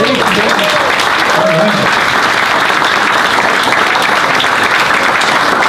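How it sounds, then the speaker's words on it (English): An audience applauds after a talk on managing national parks at a Science on Tap event, a loud, sustained wash of clapping from a crowd filling the room throughout. "I would offer we should continue this round of applause."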